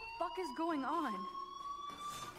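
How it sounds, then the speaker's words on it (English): Fire alarm sounding in Life Is Strange, a steady high electronic tone running throughout while a voice talks over the start. "do you hear that fire alarm? That means you should be outside."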